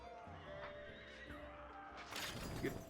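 Horses neigh and whinny in a Mount & Blade II: Bannerlord battle against horse archers. Tonal calls stretch across the clip over steady game noise, and a louder burst of whinnying rises near the end.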